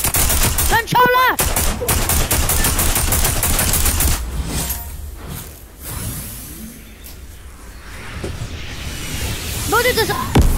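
Gunfire in a Fortnite Chapter 2 Season 5 match, loud bursts of shots and whooshes with a sniper exchange, heavy at the start, thinning in the middle, then rising again.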